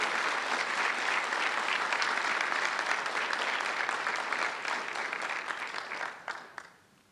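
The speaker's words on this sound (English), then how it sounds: "Let's give a round of applause for the dental class of 2024." Sustained applause from the audience for the dental class of 2024 at a white coat ceremony, steady and full for about six seconds before thinning out and fading in the final second.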